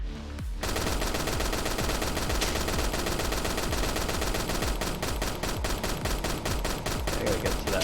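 Rapid rifle gunfire from a video game rattles in continuous fast bursts, loud and dense, after a brief quiet start.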